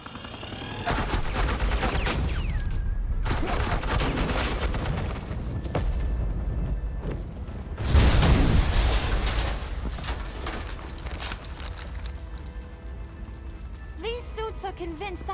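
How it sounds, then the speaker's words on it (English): Suppressing gunfire rattles in Batman: The Enemy Within, loud sustained bursts of automatic fire with heavy booms and brief pauses, layered with game sound effects. "suppressing fire."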